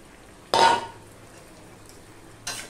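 Fried eggplant (brinjal) drops into a cooking pot with a short burst of sizzling and a clatter of utensils, fading, then a second brief sizzle a couple of seconds later; no speech.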